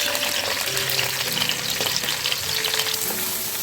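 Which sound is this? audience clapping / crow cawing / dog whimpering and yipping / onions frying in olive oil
onions frying in olive oil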